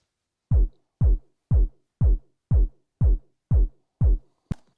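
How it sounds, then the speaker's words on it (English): Eight evenly spaced deep kick-drum thumps from a drum beat at 120 BPM, each punchy and booming with a quick decay, isolated against silence, the last one cut short. "So let's show you a bit of a drum beat at 120 BPM."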